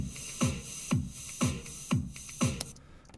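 An audio region played in reverse in Logic: five evenly spaced, swelling whooshes about half a second apart, each building to an abrupt cutoff with a falling low tone, on its own.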